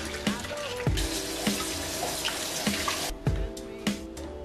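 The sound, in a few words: tap water rinsing vegetable-based pasta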